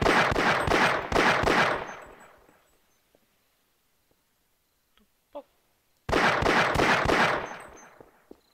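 Gunfire in the video game Half-Life comes as two loud bursts of rapid shots, each rattling for about two seconds, separated by a near-silent gap with a few faint clicks and thuds.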